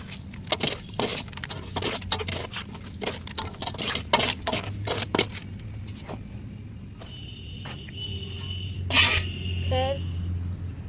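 Potting soil already blended with vermicompost is mixed with fertilizer by hand, giving a run of gritty rustling scrapes and soft crumbly pats, close and fairly quiet, with a few brighter clinks and a faint steady hum behind.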